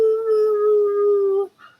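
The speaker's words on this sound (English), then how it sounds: "he starts howling because he's not getting my attention" A dog gives one steady, high-pitched howl lasting over a second, close and clear, ending abruptly with a faint short sound after.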